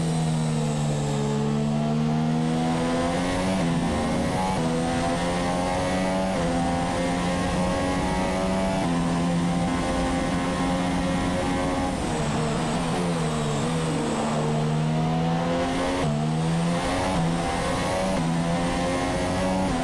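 Formula 1 car engine in F1 2017, a loud high-pitched whine repeatedly climbing in pitch through gear changes, heard close and continuous for the full stretch with no voices.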